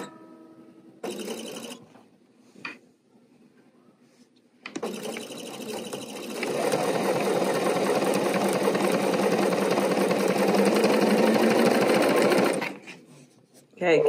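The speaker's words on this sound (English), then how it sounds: "Start sewing on one corner, meander across the fabric, so 5 or 6 more rows, evenly spaced." Sewing machine stitches rows across fabric with cording, running in a short burst, then a long steady whirring stretch of several seconds, fairly close and loud, with brief pauses between.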